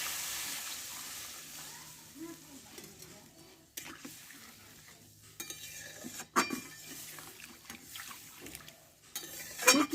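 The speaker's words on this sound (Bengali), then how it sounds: "গরম জলটা আমি দিয়ে দেবো পরিমাণ মতো" Hot water is poured into frying mung dal in a pot, a soft hissing wash with scattered clinks of a spoon and pan, fairly quiet and uneven, with a sharper splash and clatter near the end.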